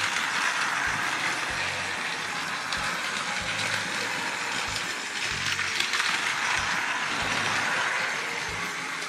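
Battery-powered Plarail ES-series toy train running on plastic track, a steady whirring motor with regular clicking joints passing every second or so, close and alone without talk.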